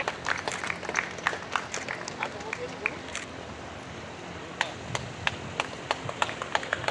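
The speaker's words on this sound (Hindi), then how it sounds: "तालियां बजा दीजिए, तालियों की गड़गड़ाहट होती रहनी चाहिए।" At a Kabir Jayanti gathering with blood donation and honours, scattered, uneven clapping comes from a crowd in bursts, fading into a quieter stretch midway and picking up again, with some talk underneath.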